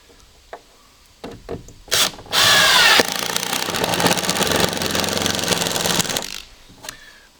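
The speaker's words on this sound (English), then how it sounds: "When I drill a pilot hole" A power drill bores a pilot hole into wet lumber for an outdoor kitchen build: a few short knocks first, then a steady, loud grinding whir for about four seconds that stops abruptly, heard alone and close.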